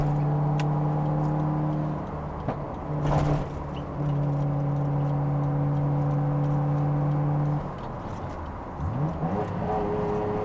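A Nissan Skyline GT-R R33 engine heard from inside the cabin holds a steady droning tone for several seconds, then drops away and dips as the throttle is released, loud and close.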